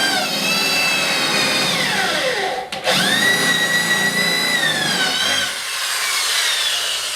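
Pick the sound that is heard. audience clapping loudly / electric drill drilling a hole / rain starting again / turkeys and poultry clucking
electric drill drilling a hole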